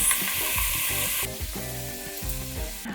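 Lamb sizzles in a pot over high heat while being browned in batches for a curry, sounding as loud, close frying with scraping stirs. The sizzle drops off partway through, leaving softer crackling and clinks.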